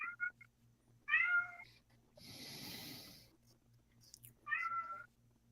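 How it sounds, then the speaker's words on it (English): A domestic cat meows three times, each call a clear, close, rising cry with gaps between, over a faint low steady hum and a brief rough breathy noise in the middle. "Once the cat meow, that's a yes."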